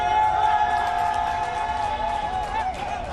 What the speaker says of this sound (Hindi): प्लेटफॉर्म के और नजदीक आने पर वहां खड़े लोगों ने ताली बजानी शुरू कर दी, सीटी मारना शुरू किया।